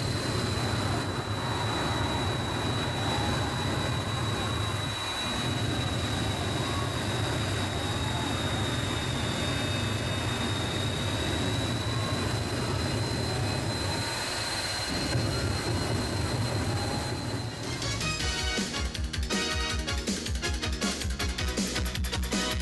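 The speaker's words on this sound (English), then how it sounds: "hooking this little truck up to the back of Doug Rose's incredible Green Mamba jet car" The Green Mamba jet car roars at full power at a monster truck and hot rod motorsports event, a loud, steady, sustained blast that shifts into a rougher, fluttering tone near the end. Faint crowd or announcer voices sit beneath it.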